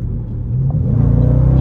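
A Dodge Charger R/T engine rumbles low and close while driving, its deep throaty tone building slightly in loudness over a short stretch.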